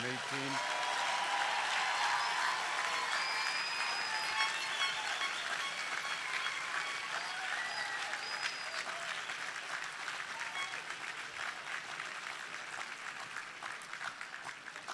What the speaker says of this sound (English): I'd like to ask all of you to join me in one round of applause for all of the class of 2018.